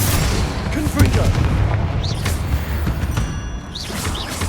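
Repeated Confringo fire-spell blasts in Hogwarts Legacy, booming explosions layered over dense, continuous combat noise, with brief whooshing spell bursts throughout.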